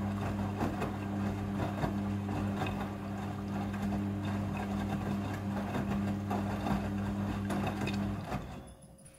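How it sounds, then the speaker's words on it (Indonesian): A Midea front-loading washing machine fills with rinse water, a steady rushing flow over a constant low motor hum and tonal drone that runs unbroken before cutting off near the end. "Air akan mengisi secara otomatis."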